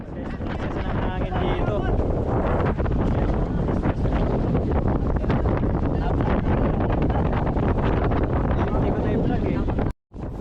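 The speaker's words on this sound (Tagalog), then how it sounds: "Sobrang lakas ng hangin." Strong wind roars continuously against the microphone on a bamboo raft at sea in Batangas, loud and buffeting throughout, with a brief dropout near the end.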